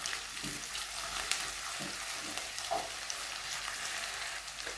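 Carrots are added to a pan of frying onion and crushed garlic, giving a steady, fairly quiet sizzle with occasional soft stirring scrapes and no speech.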